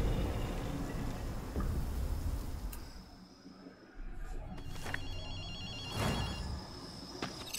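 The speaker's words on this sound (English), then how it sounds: "Akito, you hear a phone ringing" Telephone ringing in the video game Ghostwire: Tokyo: a repeating electronic ring that pulses in regular bursts over a dark, noisy ambient game soundtrack, moderately loud throughout.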